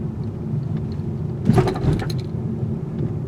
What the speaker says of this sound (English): we're going to take some mild speed bumps around 20 miles per hour to evaluate the suspension performance on impact